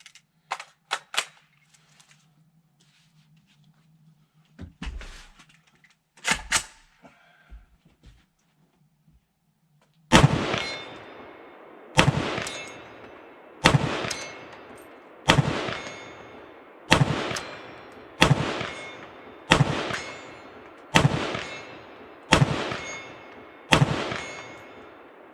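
Palmetto State Armory KS-47 pistol fired outdoors at a 100-yard target, a string of about ten loud sharp reports at a slow, steady pace, each ringing out briefly, following quieter handling clicks and near silence.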